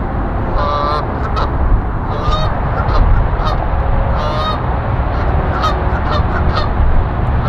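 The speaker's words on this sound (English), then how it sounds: "Those seagulls have a lot to say." Seagulls call repeatedly outdoors with loud, nasal honking cries in irregular bursts over a steady low rumble of background noise, with no one speaking.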